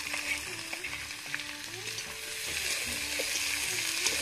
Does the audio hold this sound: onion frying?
yes